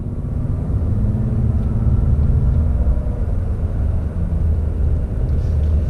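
Diesel engine of a 2019 Ram 3500 pickup truck pulling under acceleration, a steady, loud low-frequency rumble and drone that holds through the full six seconds with no voices.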